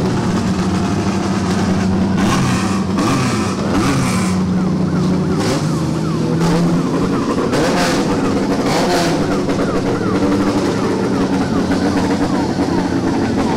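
Several rally car engines roar and rev continuously at close range at night, loud and overlapping, with a busy outdoor crowd-like din underneath.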